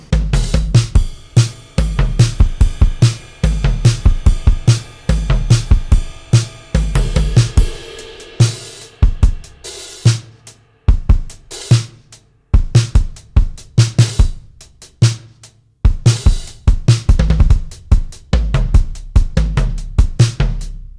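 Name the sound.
VST drum kit processed through SSL BiG SiX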